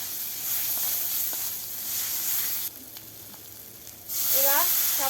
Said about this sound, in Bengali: এখন মশলাগুলো শুধু ভালো করে কষিয়ে নেবে।